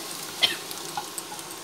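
Tadka tempering sizzles softly in a pan on the stove for drumstick (sahjan) dal, a faint steady frying hiss with a couple of small clinks.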